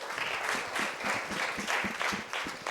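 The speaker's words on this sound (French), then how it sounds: "j'aimerais bien qu'on puisse applaudir" Full applause from the audience at a live podcast recording on menstrual health, steady and fairly loud throughout, a continuous clatter of many hands with low voices faintly mixed in.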